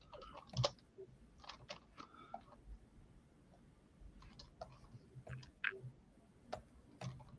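Computer keyboard typing: faint, scattered clicking keystrokes in irregular bursts with brief pauses, distant and low against background hiss.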